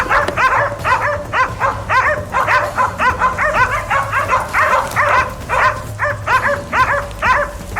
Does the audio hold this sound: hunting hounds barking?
yes